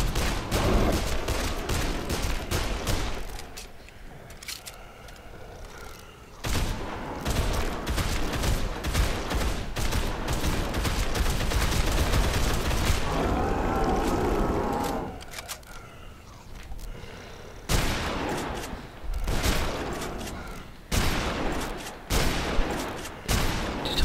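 Rifle fire in the zombie game Dead Island Riptide, repeated sharp shots in bursts and volleys with short gaps, loud and close, spread across the whole stretch.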